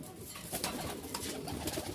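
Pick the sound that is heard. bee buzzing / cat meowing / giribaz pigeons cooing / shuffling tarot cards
giribaz pigeons cooing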